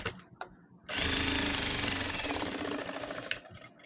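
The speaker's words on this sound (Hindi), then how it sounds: "हम इस पे एक दबान की सिलाई लगा देंगे" A sewing machine runs a steady, loud stitching burst on old saree fabric for about two and a half seconds, starting after a couple of short taps and stopping near the end.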